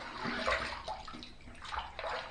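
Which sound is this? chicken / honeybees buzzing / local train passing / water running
water running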